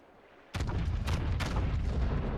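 Naval guns fire from a ship in World of Warships: a sudden heavy boom after a quiet start, followed by two more sharp blasts and a sustained rumbling roar.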